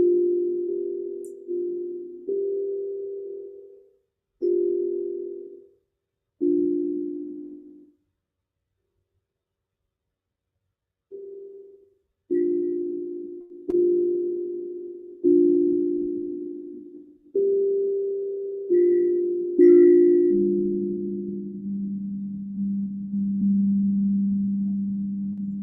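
Soft sustained meditation tones, like singing bowls or chimes, ring one after another in gentle swells with pauses between, ending on a lower lingering tone that slowly fades into quiet.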